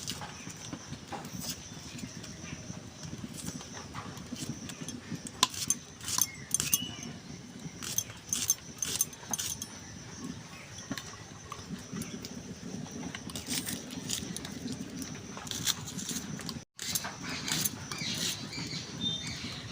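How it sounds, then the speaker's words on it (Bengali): Onions are sliced for lentil khichuri, producing a quick, uneven run of close knife taps against a cutting board, some crisp and some softer, continuing for about twenty seconds without speech. "আমি একটু পেঁয়াজ দেব, এখনই দেব কেটে"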